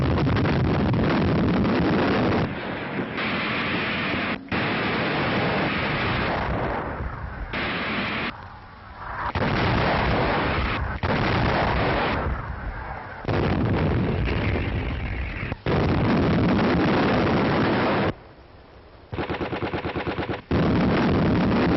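Dense gunfire and artillery from a WWII front on the German border, where American First Army soldiers sit under a barrage. Loud bursts and booms run almost without pause, with a few brief lulls.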